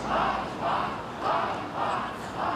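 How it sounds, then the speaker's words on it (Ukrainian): Protesters outside Kyiv city hall chant a repeated two-part slogan in unison, the crowd's shouts rising and falling in a steady rhythm of about five bursts, loud and full. "перед КМДА зібралися мітингувальники, які гучно кричать Ганьба, ганьба, геть"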